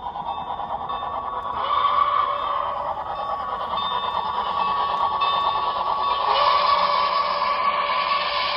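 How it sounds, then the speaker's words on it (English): An HO scale model train led by a Milwaukee Road locomotive hums and whirs steadily along a track, a continuous buzzing motor sound with faint rattling, fairly close. "the very last train to run on the layout is led by Milwaukee Road"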